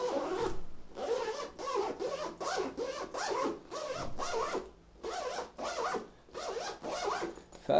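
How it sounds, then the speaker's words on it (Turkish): The zipper of a Samsonite laptop backpack is pulled back and forth repeatedly in quick strokes, close and fairly loud, with short pauses between runs. "fermuar sesleri yani aşırı tok değil ama"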